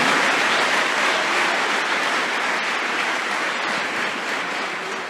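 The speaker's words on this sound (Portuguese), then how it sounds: "Dê a Ele um forte aplauso." A church congregation at a worship service claps together in steady, dense applause that stays strong and even for the whole stretch, with no voices rising above it.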